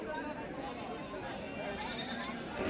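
Goats bleat at the busy Shirur livestock market in Maharashtra, where goats, sheep and kids are sold. The calls are faint and half buried under the steady chatter of a crowd of people talking nearby.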